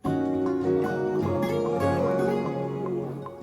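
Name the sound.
acoustic guitar melody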